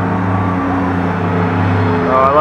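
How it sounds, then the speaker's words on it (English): A bus engine drones steadily up close, with a rising Allison automatic transmission whine climbing in pitch near the end. "Screaming Allison transmission in that thing."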